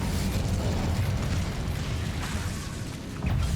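Incendio fire spell cast in Hogwarts Legacy, a loud sustained burst of roaring flame and crackling magical effects with rumbling low end, swelling again at the close.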